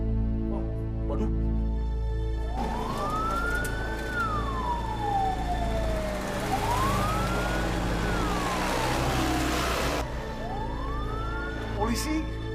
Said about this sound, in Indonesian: Gua yakin itu mobil polisi